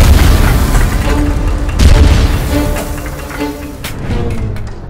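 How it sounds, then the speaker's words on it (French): A homemade plasma cannon fires in a darkened room, a loud booming blast followed by rumbling, crackling bursts and another sharp boom near the end, close and heavy throughout. "On a éteint les lumières pour que vous voyez vraiment bien ce qui va se passer dans le pistolet plasma."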